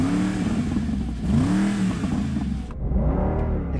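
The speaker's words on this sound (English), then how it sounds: "You can feel the whole car vibrating with the inertia of the engine." A Mercedes SLR McLaren, Ferrari GTC4 or Aston Martin DBS supercar engine revs loudly and continuously nearby, its pitch swelling and falling in repeated throttle blips with a deep, rumbling drone and no talk.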